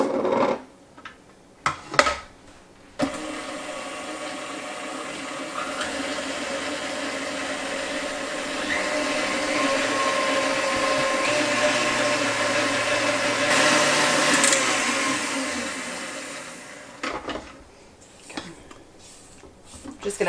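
A stand mixer with a dough hook works kolache dough made with flour, giving a steady motor whir and churning hum that runs for most of the stretch, with brief clatter and handling noises at the start and end.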